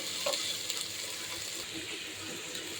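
Ginger and garlic paste sizzling in a pan for pulao, a loud continuous frying hiss with light stirring scrapes, close and steady throughout.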